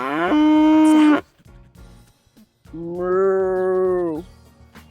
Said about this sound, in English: What sound does the cow make?